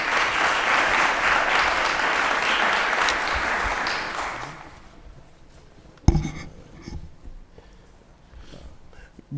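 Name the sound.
applause at city council meeting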